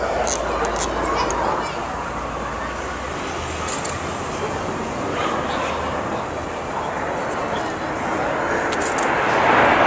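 Red Arrows jets fly a barrel roll trailing red, white and blue smoke at an air display, a broad, steady roar heard under continuous talking.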